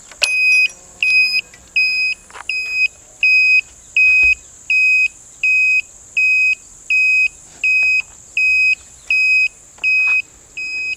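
An 80W two-pin vehicle indicator flasher buzzer beeps steadily at an even, quick rhythm, about one beep per second, close by with no talking.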